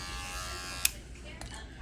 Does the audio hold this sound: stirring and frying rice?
no